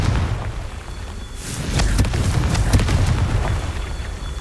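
The Confringo fire spell in Hogwarts Legacy sets off deep, rumbling booms, with several sharp blasts cracking in quick succession over a low roar.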